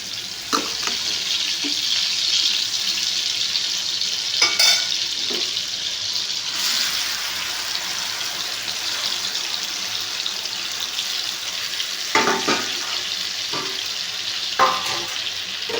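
Potatoes frying in a pan of hot oil for a Bengali egg paturi recipe, a steady close hiss of sizzling with a few sharper clatters and stirring knocks scattered through, no talking.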